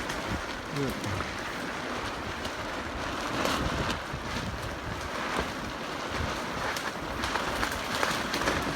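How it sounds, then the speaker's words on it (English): Strong wind blasts across a farm greenhouse with plastic sheeting, producing a loud, continuous roar with gusty buffeting and microphone rumble throughout, and no clear voices over it. "This wind comes for 3 solid months."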